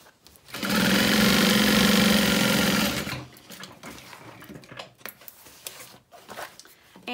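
A sewing machine runs across the bottom of a fabric handbag in one loud, steady whirring burst of about two seconds, then stops, leaving quiet fabric handling and shuffling.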